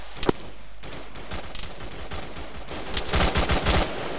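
Rapid bursts of gunfire ring out in the ARK combat game, scattered single shots early on building to dense, loud volleys near the end with no talking.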